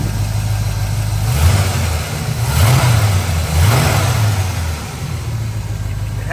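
A 1967 Buick GS400's 455 V8 idles with a deep rumble and is blipped several times, each rev rising and falling back to idle, close and loud.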